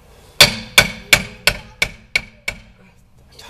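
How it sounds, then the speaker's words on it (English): A hammer hitting a piece of wood held against a car tire while taking the tire off, seven crisp, evenly spaced knocks that grow slightly fainter, close by with no voices. "This is hit your hammer with a piece of wood method"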